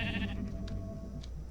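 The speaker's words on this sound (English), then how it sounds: "There's DJ Sheep." A sheep character in a video game lets out a short bleat at an underground party room, set against a continuous low musical backdrop.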